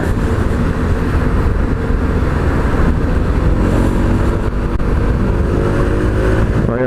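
Honda SH 150i scooter with a 150 cc engine and CVT accelerating on a test ride, a steady loud engine drone with rising whine and wind noise, close and continuous.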